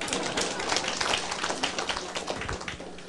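Dense applause from an audience at a lecture fills the whole stretch, steady and fairly close, with faint voices beneath it.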